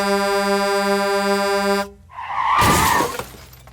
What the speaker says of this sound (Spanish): tocó el claxon un tráiler.